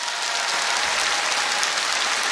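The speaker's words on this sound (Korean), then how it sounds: "여러분들 축하의 박수 한번 크게 치시기 바랍니다" A large audience at a televised singing contest in Kyung Hee University's Hall of Peace, Dongdaemun-gu, Seoul, claps in a dense, sustained burst of applause that sounds close and loud.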